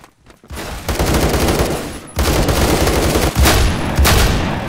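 Rapid automatic gunfire from the online shooter game Phantom Forces bursts out loud and close, in sustained volleys with two short breaks, with no talking.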